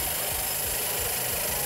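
A drill bites into a nut seated in a Ducati Monster 600 cylinder head, giving a steady, close grinding whir with a rough, rasping texture for under two seconds and no talking.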